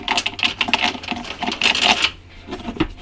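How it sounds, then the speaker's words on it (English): A handful of metal washers dropped into a gas tank for cleaning, giving bright clinking and rattling in quick irregular bursts, close by, then settling into a few scattered clinks. "Then I'm gonna go for a handful of washers."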